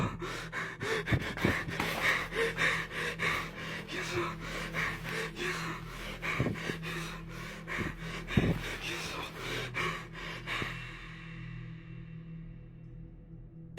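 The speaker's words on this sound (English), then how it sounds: "With all these heavy breaths he took" Heavy, uneven breathing with gasps and pants from a man in a dark ghost-hunting setting, close and rhythmic across the clip, with several sharp thumps and a low steady hum beneath.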